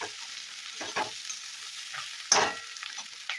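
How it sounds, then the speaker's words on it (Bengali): Chili soya stirred in a frying pan as sauce goes in, giving a steady low sizzle with a few scraping spoon strokes and one sharp, louder clatter partway through. "ভালো করে একটু মেশানো হয়ে গেলে এর মধ্যে আমি এবার সসটা দিয়ে দেবো।"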